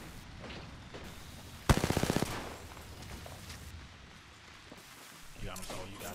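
Gunfire in the video game Apex Legends: a sudden rapid burst of automatic shots at about two seconds, loud and close, followed by scattered distant shots and game noise while players talk.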